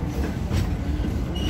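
A Frisco Silver Dollar Line steam train rolls along its rails on a steep downhill incline, with a steady, close rumble of wheels and cars and faint squeals, continuous and loud throughout.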